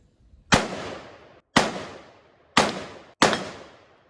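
Four sharp, loud rifle shots at roughly one-second intervals during long-distance shooting at a steel target, each a crisp crack with a short decaying tail, no talking.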